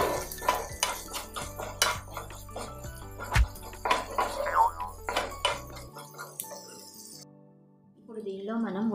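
Ginger garlic paste fried with spices in a pan for samosa filling, stirred with a utensil that clinks and taps steadily against the metal under continuous talking, then falls quiet near the end.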